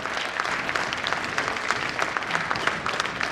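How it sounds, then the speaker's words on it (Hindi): Loud, dense audience applause welcomes the national president at a state BJP working committee meeting, a steady roar of many hands clapping throughout with no speech over it. "एक बार जोरदार तालियों के साथ माननीय राष्ट्रीय अध्यक्ष जी का स्वागत।"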